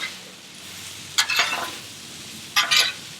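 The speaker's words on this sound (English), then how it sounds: "So we're gonna get these vegetables sauteed up and make us a sub." Vegetables including onions hiss and sizzle in a hot pan for a Philly cheese steak sub, with two sharp bursts of frying as they are stirred and tossed, close and fairly loud.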